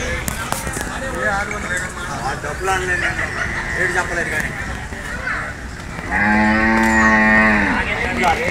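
A Jafarabadi buffalo at a Sunday buffalo market in Erragadda lets out a loud, drawn-out low moo near the end, after stretches of crowd talk and other animal calls around the busy livestock yard.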